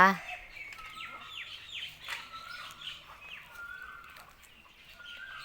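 Bantam chickens at a Thai temple, around a hundred birds, cluck and chirp in a busy, overlapping chorus, with a brief loud call at the start and shrill peeps running throughout.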